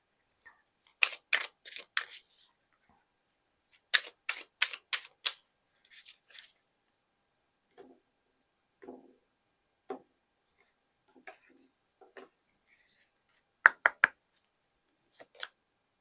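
Oracle cards being shuffled and drawn, quick bursts of riffling card flutter followed by sparse taps and flicks in an otherwise quiet room.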